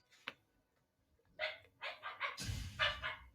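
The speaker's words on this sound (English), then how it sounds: "Oh, dogs are firing outside" Dogs barking outdoors in several loud, close bursts, a short yip first and then a cluster of rapid barks building toward the end.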